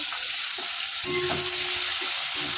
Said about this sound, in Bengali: প্রথমে আলুটাকে খুব ভালো করে ভেজে নেব